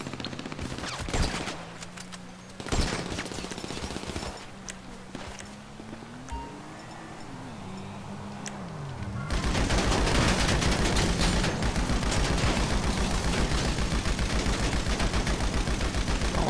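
Heavy machine gun fire in GTA 5, scattered shots and bursts at first, then a long, loud, dense stream of rapid fire that runs to the end.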